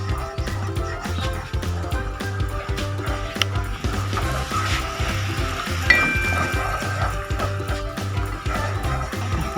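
Spice paste is sautéed in a pan, giving a steady close sizzle broken by intermittent stirring scrapes and clinks, with music playing underneath.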